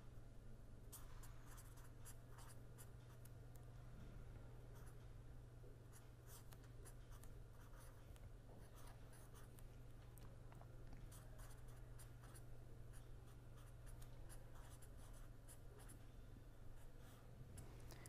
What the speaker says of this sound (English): let me first write down